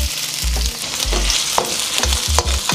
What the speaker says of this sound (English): So go ahead and hit it with a little bit of my cooking oil. First thing going in, my onions.